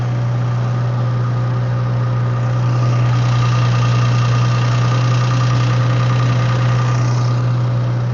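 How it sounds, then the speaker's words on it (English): Twin turbo car engine idling after installation, a loud, steady low rumble with a constant hum and slight knocking texture throughout, close up with no talking. "you hear the motor start, right?"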